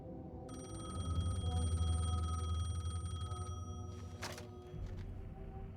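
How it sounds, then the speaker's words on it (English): A payphone rings in the video game Alan Wake 2: a steady electronic trill of several seconds over a low, droning ambient rumble, cutting off near the end. "The payphone was ringing."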